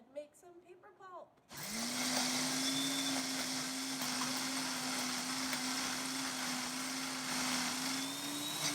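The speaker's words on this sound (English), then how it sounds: "we're gonna pulse our paper in the blender until it's nice and pulpy like this" A kitchen blender switches on after brief talk and runs steadily, a loud continuous whirring motor drone as it churns paper into pulp, holding one pitch for several seconds.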